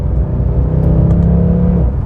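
A Mercedes C63 AMG Black Series engine pulls under part throttle, a loud, close, steady mechanical drone with a rising hum and no speech.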